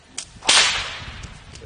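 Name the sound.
whip crack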